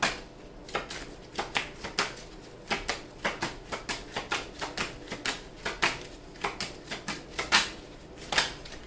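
Tarot cards are shuffled by hand in a quiet room, giving a rapid run of crisp riffling snaps and soft flutters, close and fairly faint, with no talking.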